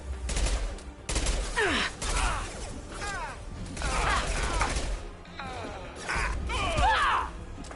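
Gunfire in the video game Mass Effect 3, with bursts of shots and mechanical clatter mixed with game voices and sweeping effects. The layered combat noise stays busy and dense throughout.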